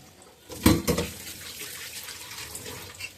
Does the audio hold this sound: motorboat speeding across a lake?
no